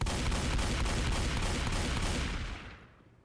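A shotgun in Left 4 Dead 2 fires rapidly, a quick string of loud booming blasts in steady succession that rolls into a fading tail as the shooting stops.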